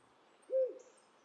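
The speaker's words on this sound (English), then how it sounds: "Hello there, little owl." Single soft hoot from a little owl in Carto, a short hollow tone rising and fading against a quiet background, with a faint high chime trailing after.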